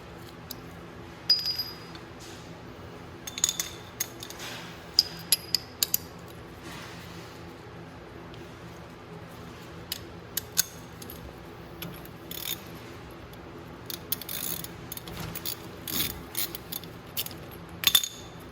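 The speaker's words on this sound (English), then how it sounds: "Now to take this nut off, you're going to need a 21 mil socket." Ratchet with a 21 mm socket removing the wheel hub nut on a Venom 125cc mini jeep: scattered sharp metallic clicks and clinks in short bursts over quiet mechanical noise, close by, with no talking.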